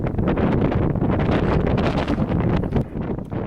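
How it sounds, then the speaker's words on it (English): Strong wind buffets the microphone atop a railway bridge, a continuous loud rumbling roar with gusty surges for the whole span and no voices. "it was a very windy day on top of the bridge"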